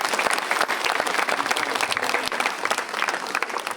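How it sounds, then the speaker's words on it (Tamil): Steady, dense applause from an audience at a school function fills the space continuously, with many hands clapping fairly close, unbroken and without talk. "நல்ல ஒரு கைத்தட்டல் கொடுத்துடலாம்"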